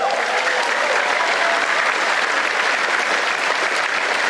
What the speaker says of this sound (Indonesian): saya pengen minta tepuk tangan yang paling meriah kepada dua ketua umum kita